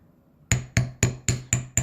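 Five sharp, evenly spaced metallic strikes of a hammer on wire earring resting on a small jewelry anvil, ringing briefly after each blow, close and loud after a quiet start.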